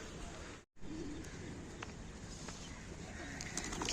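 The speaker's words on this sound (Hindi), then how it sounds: "कितने प्यारे कबूतर है, देखिए फ्रेंड्स" Pigeons cooing outdoors on a morning walk across an open ground, faint soft calls over steady ambient noise, with a brief dropout near the start.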